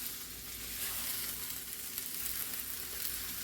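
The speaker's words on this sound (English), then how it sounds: "we're just going to kind of get our eggs cooking here" Eggs sizzle and fry in a hot pan as part of a stir fry for Spam fried rice, a steady, close crackling hiss that holds evenly throughout with no voices over it.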